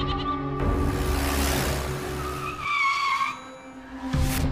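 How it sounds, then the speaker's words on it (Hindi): A car brakes to a stop with a long tire skid and screech, loud and close over a low engine drone, the squeal easing off toward the end. "ड्राइवर गाड़ी रोको।"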